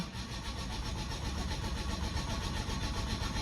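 A car engine cranks over on its self starter with a steady, loud, rapid churning that goes on without catching, and no talk is heard.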